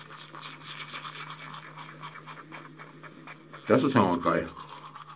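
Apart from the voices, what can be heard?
vibrating electric toothbrush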